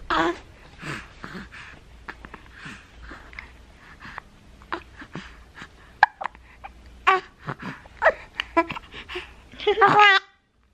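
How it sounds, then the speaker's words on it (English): A baby hiccuping, a few short abrupt bursts among soft breathing, mouth sounds and adult talk, with a louder cluster near the end. "And I had the hiccups."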